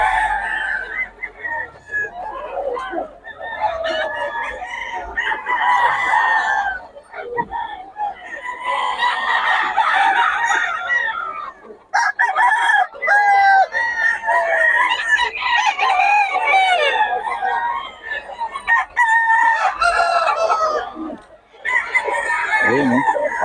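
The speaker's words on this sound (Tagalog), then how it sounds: "Ayun mga mamanok dito." Gamefowl roosters crow and cluck almost nonstop, several birds overlapping near and loud, with a few short pauses. Men can be heard talking among the birds.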